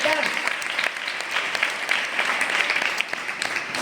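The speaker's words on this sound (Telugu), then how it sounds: "ఇప్పటి వరకు ఎంతో చక్కగా ప్రదర్శించిన మా సండే స్కూల్ చిన్నారులకు మరొకసారి చప్పట్లతో దేవుని నామాన్ని నడుపుతాం." Applause for Sunday school children after their dance performance, a dense steady round of clapping from a gathered congregation, loud and continuous throughout.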